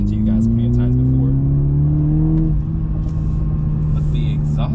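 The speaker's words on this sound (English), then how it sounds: "the exhaust in here, it sounds really good, even though, like I mentioned, even though it's a 4-cylinder" A 2021 Toyota Supra with the 2.0 four-cylinder engine drones steadily through its exhaust while driving on a rough road in Miami. The engine pitch shifts partway through, and a person talks over it the whole time.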